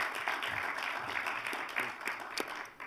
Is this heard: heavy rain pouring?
no